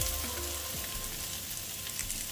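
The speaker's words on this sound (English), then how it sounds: "I'll also add the sliced cabbage. I will stir to mix properly." Sliced cabbage stirred in a hot pan alongside green bell pepper and mint, a steady close sizzle with soft scraping of the spoon throughout, no talking.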